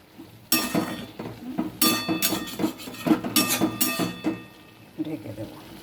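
Metal lid clattering onto a cooking pan of potato and soybean curry, several bright clinks and rattles in quick succession, close and fairly loud, with a brief voice nearby.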